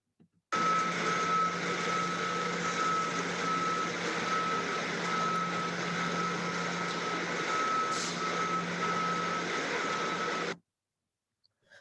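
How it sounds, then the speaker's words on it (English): A truck's reversing alarm repeats steady, evenly spaced beeps over a constant engine rumble for about ten seconds before stopping abruptly. "let me play the reverse beep"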